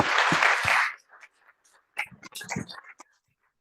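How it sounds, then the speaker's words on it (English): Applause from a conference audience at the closing of a workshop on AfCFTA implementation strategies, a dense burst of clapping for about a second, then scattered claps and murmuring voices trailing off. "Please, another round of clap for these outstanding speakers."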